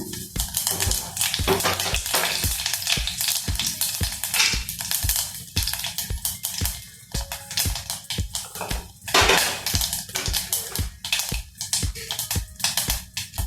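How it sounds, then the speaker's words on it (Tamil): Whole garam masala spices fry in hot oil inside a pressure cooker, giving a dense, continuous crackling sizzle up close, broken by frequent scraping and clinking stirs against the metal. "oil காஞ்சனு whole spice garam masala போட்டுக்கோங்க"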